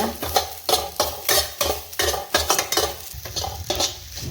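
Grated coconut roasting in a pan for rava laddu, stirred with a spoon in a steady rhythmic scrape about twice a second, with light sizzling underneath, close and fairly loud.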